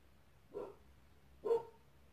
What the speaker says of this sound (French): depuis ce matin, elle n'arrête pas d'aboyer après le voisin